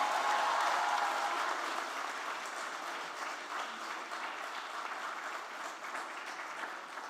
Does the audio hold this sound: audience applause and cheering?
yes